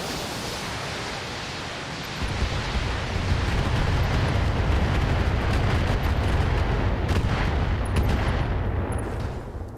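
Weapons fire pounds a Goliath mech in the BattleTech video game, a dense rumbling roar of explosions and impacts that swells after a few seconds and holds heavy and continuous.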